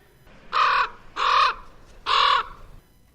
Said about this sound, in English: They are much smaller than their cousin, the raven, which we have in Kentucky, which sounds more like this.